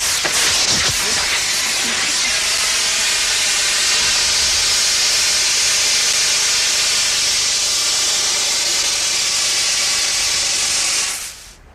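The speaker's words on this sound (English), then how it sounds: "If I open the valve, it'll shoot out of this pipe and evaporate very rapidly back to a gas" Refrigerant gas blasting out of a pipe through an opened valve and flashing to vapour, a loud, steady broadband hiss that holds for about eleven seconds before cutting off sharply.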